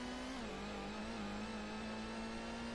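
A car engine in Gran Turismo hums and revs steadily at a fairly constant pitch, with a slight drop early on, heard alone at moderate loudness with no voices.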